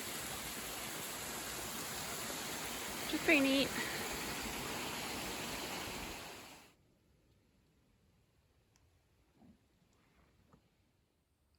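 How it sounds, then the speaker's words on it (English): A tiny waterfall on a small creek along a Maine wilderness side trail makes a close, steady rushing wash for about six seconds and then cuts off, with a voice speaking briefly over it. "A little side trail leads out to this tiny waterfall."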